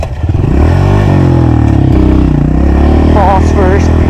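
Small 125 pit bike ridden on a dirt track with small doubles, its engine droning loud and close throughout, pitch rising and falling as it revs, with some clatter.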